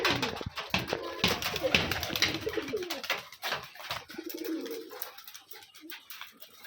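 Pigeons coo repeatedly in a loft, several birds calling close by in overlapping throaty bursts with a restless background of wing and body movement.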